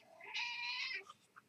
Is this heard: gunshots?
no